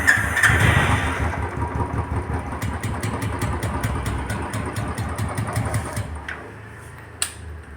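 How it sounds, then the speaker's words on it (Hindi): A Bullet motorcycle is cranked by its electric self-starter and catches into a thumping idle, close and loud at first, then settling into a steady rhythmic beat with a few sharp clicks near the end. "अब मैं आपको इसका सेल्फ लेके दिखाता हूँ।"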